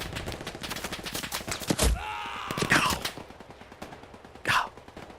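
Gunfire in Hell Let Loose on Hill 400 during a large competitive match: rapid rattling bursts and single cracks, close and loud, with a sharp blast and scattered shots among them.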